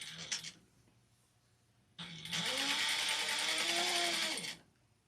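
A sewing machine stitches through three layers of felt for a witch hat: one very short burst, a pause, then a steady whirring run of about two and a half seconds that slows to a stop, close and clear.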